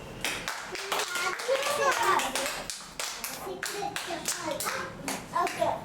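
Children in an audience at a magic show clap in quick uneven bursts after a sponge-ball trick, with kids' voices chattering and calling out over the claps.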